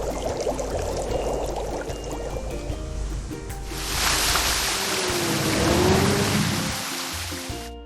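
A water truck pours a heavy stream into a fountain basin, a broad rushing gush that swells midway and holds steady, close and loud with no talking.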